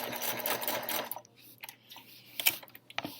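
A sewing machine runs a short back stitch, a fast, close mechanical whirr with rapid ticking that stops after about a second, followed by faint clicks and handling sounds at low volume.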